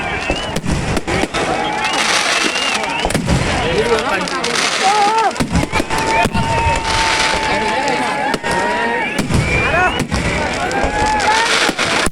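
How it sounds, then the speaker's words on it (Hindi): Fireworks crack and pop repeatedly at the Khurai dohela festival, sharp bursts scattered through the stretch beneath continuous amplified speech and crowd noise. "बीच बीच में आतिशबाजी हो रही है।"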